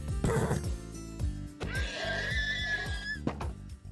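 A horse whinnies loudly in the video game Engineer's Life 2, a shrill wavering neigh over low rumbling hoof-like thumps and game noise.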